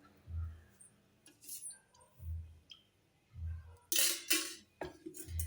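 A metal tadka pan is set down on the stove for dhokla tempering and oil is ladled in, giving close metallic clanks and clinks between soft low thumps.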